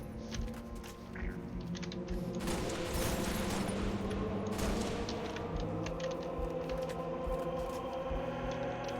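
Halo: Reach firefight on Legendary difficulty, with a dense wash of weapon fire and thumping impacts that swell around the middle and then stay busy, rumbling steadily under the game's background noise.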